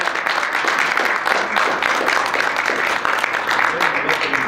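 An audience at a university event gives sustained applause, a dense steady wash of many hands clapping, near and fairly loud, with some voices mixed in.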